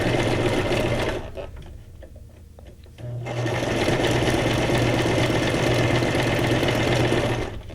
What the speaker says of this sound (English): It's kind of fun watching the sewing machine. Listening to the hum of the motor.